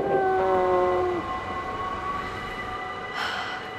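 A train sits at a snowy station, sounding a steady horn tone that stops after about a second, followed by a low, continuous rail rumble with a brief hiss near the end.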